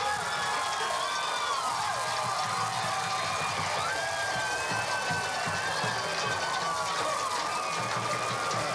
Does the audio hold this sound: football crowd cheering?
yes